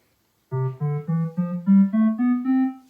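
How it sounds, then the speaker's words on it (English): Eight ascending notes of a major scale played one after another on a single instrument, clear and close, each note separately attacked. "That's a major scale."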